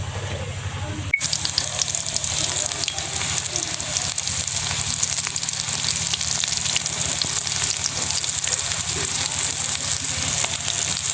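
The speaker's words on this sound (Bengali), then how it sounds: "এক্সট্রা যে ময়দাটা আছে চিকেন থেকে ঝেড়ে এক এক করে তেলে ভেজে" Flour-dusted chicken pieces fry in hot oil: after a quiet moment the oil bursts into a loud, dense, continuous bubbling sizzle that holds steady throughout, close up and without talk.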